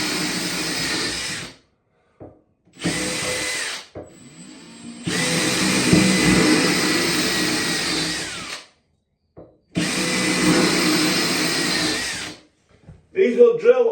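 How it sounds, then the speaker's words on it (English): A power drill bores into ceramic tile during a bathroom renovation, running in several loud, steady bursts a few seconds long that are separated by short silences, with a brief bit of handling noise at the end. "These will drill all day long in ceramic."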